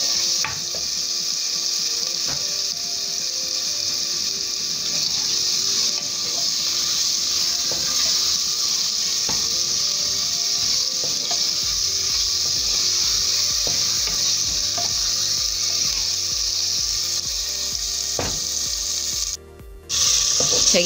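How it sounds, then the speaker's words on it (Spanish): Garlic, onion and ají chili fry in a pan, a loud continuous sizzle with occasional stirring scrapes close by, and a brief interruption near the end. "Seguimos friendo nuestro ají con nuestra cebolla y el ajo."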